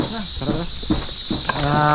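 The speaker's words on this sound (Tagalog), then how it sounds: "Kuliglig na agad" Crickets chirp loudly and continuously outdoors in the afternoon, a dense high-pitched trill running under people talking nearby.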